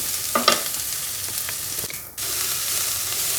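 Sliced shallots drop into a pan of frying dried red chillies, a few quick clatters and stirring scrapes over a constant sizzle that briefly dips, then resumes steadily.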